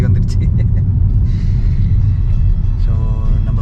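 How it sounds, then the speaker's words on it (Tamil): Road traffic in Madurai rumbles close by, with a steady low engine drone, a brief hiss and a passing vehicle's tonal whine near the end, under light speech. "டிராஃபிக் வந்துடுச்சு"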